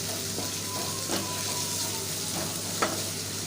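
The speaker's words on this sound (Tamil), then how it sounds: "வெங்காயம் நல்லா செவக்க ஊற்றி அதில் கொஞ்சம் உப்பு போடணும்" Onions frying in oil with salt, giving a steady soft sizzle with faint stirring scrapes, fairly quiet and close, no voices.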